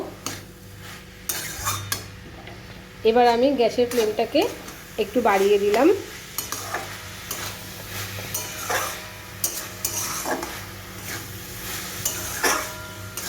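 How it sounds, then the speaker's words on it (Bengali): Banana stem (thor) fries with sugar in a pan over a gas flame, a soft steady sizzle broken by scraping, clinking stirs of a spatula, while someone talks over it. "থোড়টাকে একটু ভাজা ভাজা করব।"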